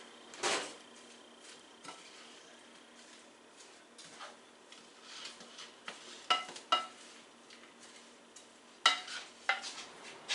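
A spoon or spatula scrapes and clacks in a pan as chicken lettuce wrap filling is stirred, with soft sizzling underneath and sharp, irregular metallic taps over about ten seconds.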